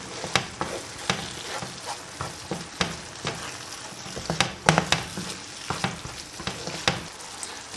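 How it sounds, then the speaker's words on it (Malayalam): Tamarind and green chilli gravy simmers in a pan, giving soft, irregular bubbling pops and a faint steady sizzle throughout, close and quiet with no talking. "സാവധാനം നമുക്ക് ഇത് തിളപ്പിച്ചെടുക്കാം."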